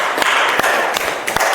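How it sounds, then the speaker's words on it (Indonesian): A classroom bursts into applause for a student's question: a dense, continuous patter of many hands clapping, with a few sharper individual claps standing out over about a second and a half. "Tepuk tangan dulu buat teman kalian"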